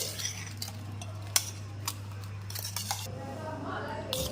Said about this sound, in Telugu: అంటే దీన్ని ఇంకా ఫుల్గా కలిపేసుకోవాలి